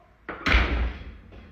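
A door shuts with a heavy thud, followed by a brief rattling knock of loose fixtures, then a fainter second knock a moment later.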